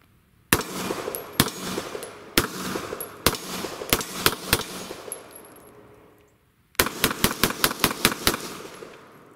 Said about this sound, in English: after firing a few rounds through this